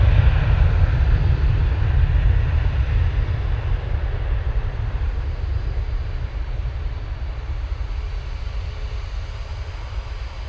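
A Ryanair airliner takes off from Manchester Airport, heard from a distance as a heavy, continuous low rumble that slowly eases in loudness over about ten seconds.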